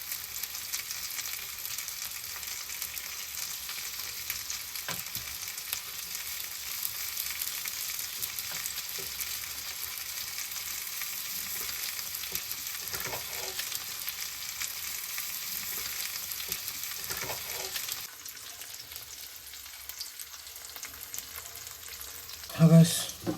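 Sardines fry crisp in a pan with a steady, dense sizzle and occasional faint stirring taps. The sizzle drops sharply near the end, leaving a few louder knocks.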